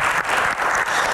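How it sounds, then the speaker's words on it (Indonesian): Audience applause at a live Q&A comedy panel event, a dense steady clatter of many hands clapping close and loud throughout, with brief dips in intensity and no talk over it. "Tepuk tangan yang paling meriah dong buat Gian."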